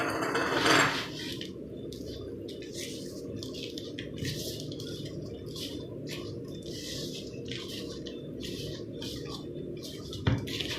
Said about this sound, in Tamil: இது எல்லாத்தையும் சேர்த்து நல்லா மிக்ஸ் பண்ணிக்கணும்